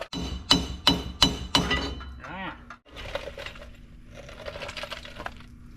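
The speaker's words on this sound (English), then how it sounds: "proceed beating it to death with a hammer." Four sharp, ringing hammer blows on a metal Jeep axle part in quick succession, close and loud, followed by a short ringing tone and then muffled talking.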